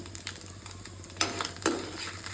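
Whole dried red chillies fry in sesame oil with a close, steady sizzle, broken by a few sharp clicks and scrapes of stirring.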